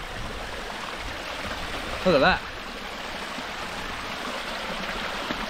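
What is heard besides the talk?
waterfall and stream flowing at Robin Falls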